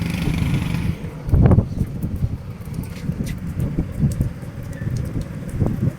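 Steady rain falls on a ship's deck, a broad continuous hiss with low rumbling, a few heavier splashes and gusts rising and fading across the span, with no voices.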